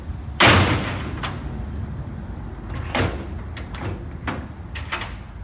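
The door of a black 8x28 Wilson livestock show trailer swings shut and catches on its slam latch with a sharp metallic bang, followed by several lighter knocks and rattles as it settles, heard outdoors at close range.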